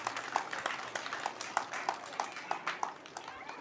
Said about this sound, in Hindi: हम लोग जोरदार ताली बजाकर उनको धन्यवाद और बधाई करते हैं।